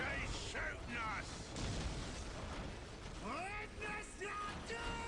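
Battle gunfire and explosions in the Dawn of War Soulstorm game, a dense rumble of shots and blasts under overlapping shouted voice lines, steady and moderately loud throughout.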